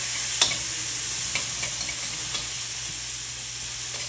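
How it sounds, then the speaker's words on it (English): Onion tossed into hot butter in a pan sizzles and fries steadily, with a few faint clicks of stirring over the constant hiss. "So we're gonna take our onion"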